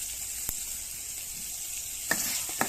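Potatoes go into garlic frying in a pan, with a faint continuous sizzle broken by a few sharp clicks and utensil knocks.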